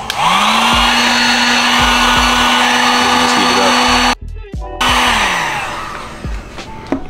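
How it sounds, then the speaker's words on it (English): A heat gun blows with a steady, loud whooshing roar while heating solder on aftermarket car mirror lights, cutting out briefly mid-way before starting again and then fading slightly. "And you'll take your heat gun."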